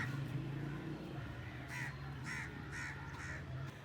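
Several crows caw in foggy weather in Sialkot Cantt, a run of four or five harsh calls spaced about half a second apart, at moderate distance over a steady low background hum.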